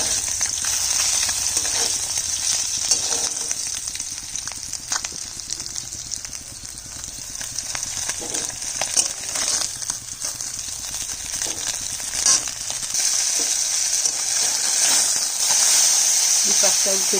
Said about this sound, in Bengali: পুঁটি মাছটা ভেজে নিচ্ছি